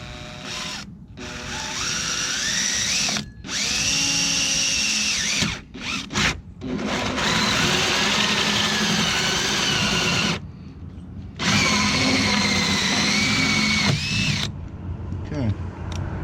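A power drill whirs loudly in long bursts drilling into plastic, its pitch wavering as it bites into material, with brief stops between runs.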